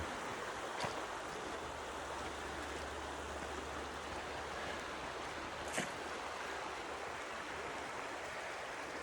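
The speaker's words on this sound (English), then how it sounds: "creek runs right next to this path" A creek running right beside a path gives a soft, even rush of flowing water, constant and fairly quiet, with a couple of faint knocks.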